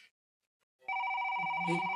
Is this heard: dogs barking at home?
no